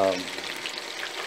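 Steady, dense sizzle of potatoes frying in hot oil for French fries, first fry, close up and fairly loud, with a brief low hum at the very start.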